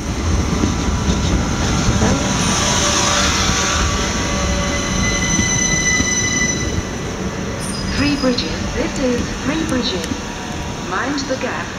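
A Gatwick Express or Southern train rumbles and rattles through Three Bridges station with squealing wheels and clacking, steady and loud, while a person speaks nearby toward the end.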